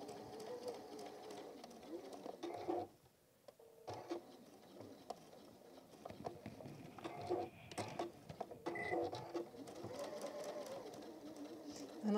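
Home sewing machine stitching plaid fabric for a Tilda goose toy, short start-stop runs of needle chatter with handling noises and brief quiet gaps between.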